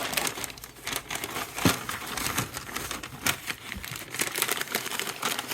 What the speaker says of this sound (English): I'm actually going to rip it in half.